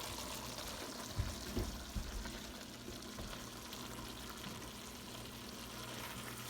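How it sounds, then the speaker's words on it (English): Jambalaya sizzles and bubbles in a pan as it deglazes to cook off the alcohol, a steady, soft frying hiss with a few light clinks of a stirring spoon early on. "we're going to watch this as it bubbles up for a minute or so"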